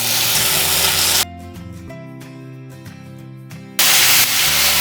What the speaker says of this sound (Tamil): இந்த தாளிப்பு வந்து நல்லா பொரிஞ்சதுக்கு அப்புறமா நம்ம அரைச்சி வச்சிருக்கிற புதினா விழுதை சேர்த்துடலாம்.